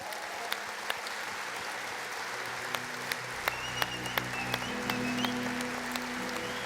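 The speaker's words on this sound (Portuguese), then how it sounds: "Vamos abençoar Jesus com um aplauso, Ele é digno." Church congregation applauding in praise during a worship service, a sustained crowd clapping with sharp isolated claps standing out, while a low held organ or keyboard tone enters midway.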